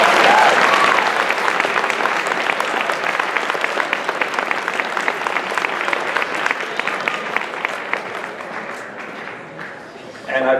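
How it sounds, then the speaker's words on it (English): An audience of about 400 at a 2017 Poetry Out Loud recitation event gives a sustained round of applause, thick and loud at first and thinning gradually toward the end. "I think you ought to give them another round of applause."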